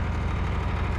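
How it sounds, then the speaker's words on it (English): A generator drones at a narrowboat mooring near Pennington Flash in winter, giving a steady low mechanical hum with a faint regular throb that continues evenly throughout, with no voices. "you can probably hear a generator running in the background, and that's not from the boat"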